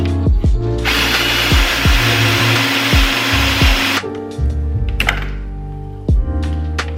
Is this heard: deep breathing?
no